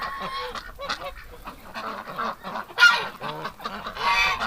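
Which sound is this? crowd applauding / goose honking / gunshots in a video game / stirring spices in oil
goose honking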